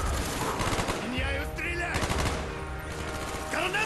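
Sustained machine gun fire in the Call of Duty Black Ops video game, with loud rapid bursts and layered gunfire filling the whole stretch among other game sounds.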